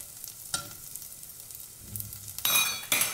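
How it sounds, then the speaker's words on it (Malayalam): Small shallots, crushed ginger and garlic sauté in a pan for a Kerala-style fish curry, a close, steady sizzle with soft stirring scrapes and a louder burst of frying toward the end. "ഇനിയിപ്പോൾ ഇതെല്ലാം കൂടെ ഒന്ന് നല്ലപോലെ ഒന്ന് നമുക്ക് വഴറ്റിയെടുക്കാം"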